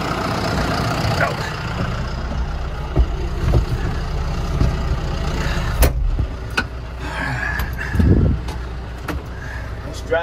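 A vehicle rolls forward across a farm with a steady low engine rumble and some clunks and rattles, and a person talks over the engine noise.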